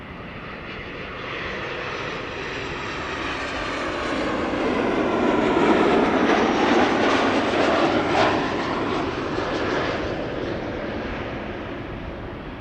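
An Emirates Airbus A380 passes overhead on the downwind leg at about 7,000 feet near Schiphol Airport, a broad distant engine roar that swells to a peak midway and slowly fades, with no talk.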